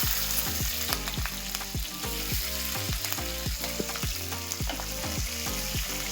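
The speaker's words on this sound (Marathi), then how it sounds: "तर तेल गरम झालेलं आहे, त्यामध्ये आपण जिरं टाकूयात। त्यानंतर लसूण टाकूयात। त्यानंतर मिरच्या टाकूयात।" Cumin, garlic and green chillies frying in hot oil for tomato chutney, a loud close sizzle with a rapid, regular run of pops and crackles throughout, no voices.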